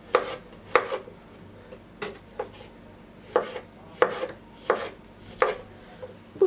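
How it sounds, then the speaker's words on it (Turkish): A knife chops mushrooms steadily on a cutting board, about nine crisp, evenly spaced strokes, close and clear with no talking. "Mantarları doğrayarak başlayayım."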